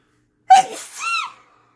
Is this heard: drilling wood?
no